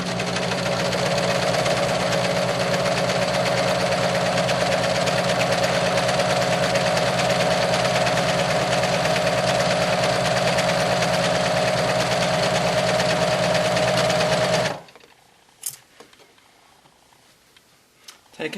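A sewing machine stitches the side seams of a tank top in a loud, continuous whirring hum for about fifteen seconds, then stops abruptly, leaving near silence with a few faint handling sounds.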